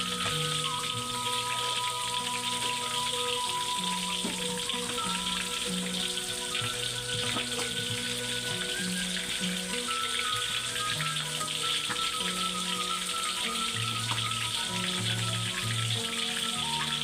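Tilapia fish grilling over heat while being flipped, with a dense, continuous sizzle and crackle held steady and close throughout, no voices over it.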